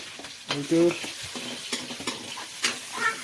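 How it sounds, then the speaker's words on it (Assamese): Fish frying in a pan, a steady sizzle with scraping stir sounds and a few clattering knocks of a utensil, heard close and alone. "এইটো মাছটো এতিয়া ভাজি আছে"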